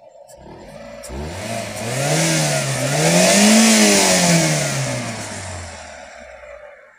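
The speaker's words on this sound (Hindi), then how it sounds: "तो दोस्तों मेरी कार देर में स्टार्ट हो रही है" A Maruti Eeco car running on LPG starts and its engine revs up in one smooth rise and fall, loud and close, then settles back toward idle, with no talking.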